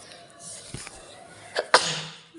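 A couple of short, sharp coughs close to the microphone, a weaker burst followed right away by a louder one, over quiet indoor background noise.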